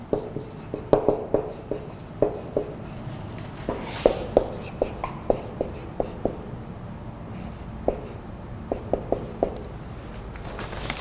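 Whiteboard markers rubbed together in a classroom science demonstration about friction, giving a series of short, sharp scraping squeaks in irregular bursts, moderately close and heard alone.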